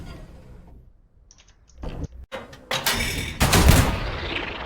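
A Sherman tank fires armour-piercing rounds against a Tiger in the WWII game Hell Let Loose, with sharp clicks and mechanical loading noises followed by several loud, booming shots and a rumbling aftermath.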